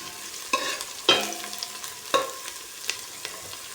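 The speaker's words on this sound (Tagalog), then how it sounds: "Ayan guys, haluin natin guys para maluto na yung sangkap." A spatula stirs onion and garlic sautéing in a pan, several distinct scraping strokes over a faint background sizzle, close and fairly quiet with no talking.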